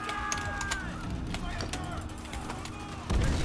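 Wartime gunfire and explosive blasts from the game Call of Duty: World at War, a dense, busy battle din of shots with a heavier boom near the end.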